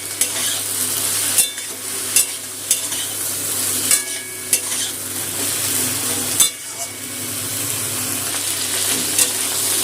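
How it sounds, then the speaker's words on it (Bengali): Sliced tomato and okra frying in a pan for an okra curry, a steady broadband sizzle with repeated sharp clinks and scrapes of a utensil stirring, close and fairly loud throughout. "টমেটোও একটুখানি ঢেঁড়সটাতে ভেজে নেব।"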